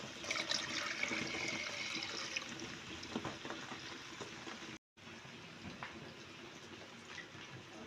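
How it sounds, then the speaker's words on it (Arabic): Water poured steadily into a cooking pot over tomato paste and softened garlic, a continuous close splashing and gurgling that runs throughout, with a brief break near the middle. "هسه راح اضيف الماء."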